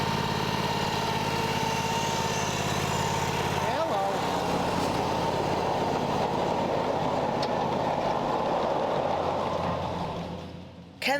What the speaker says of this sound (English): at the Pearson Yard, passing by a Conrail SW 1500